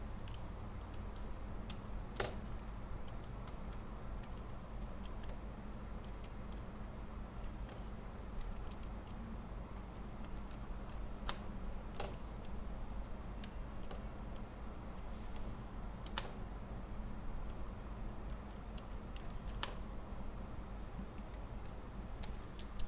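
Names being typed into an Excel spreadsheet on a computer keyboard, sparse, faint key clicks scattered at irregular intervals over a steady low background hum.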